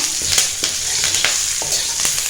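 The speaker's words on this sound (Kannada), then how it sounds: "ಕರಿಬೇವನ್ನ ಸ್ವಲ್ಪ ಇದ್ರ ಜೊತೆ ಮಿಕ್ಸ್ ಮಾಡೋಣ." Curry leaves stirred and fried together with roasted toor dal in a pan give a steady close sizzle throughout, with several soft scraping stirs and no voices.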